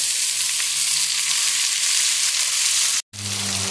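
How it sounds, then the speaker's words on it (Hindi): Chopped garlic and large tomatoes frying in a pan for masala bhindi, a loud, continuous close sizzle with a brief cut near the end before the sizzling resumes with a low hum. "अब आपने चार बड़े साइज के टमाटर ऐड कर देने।"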